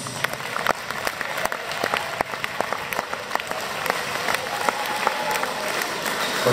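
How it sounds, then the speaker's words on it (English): A crowd applauds at a high school tournament final, sustained clapping with crisp individual claps standing out over a dense, steady wash of hands. "Give him a round of applause."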